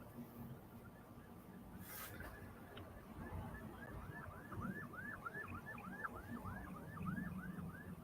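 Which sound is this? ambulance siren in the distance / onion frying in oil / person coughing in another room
ambulance siren in the distance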